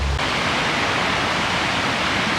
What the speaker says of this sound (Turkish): Füssen'e gelirken ilk önce burada bir tane şelale varmış, yani minik bir şelale diyelim.